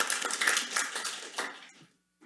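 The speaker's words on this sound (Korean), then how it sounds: "박수 부탁드립니다" Applause from the audience at a construction engineering policy forum after a presentation, a dense patter of clapping that swells and then thins out over about two seconds before fading to silence.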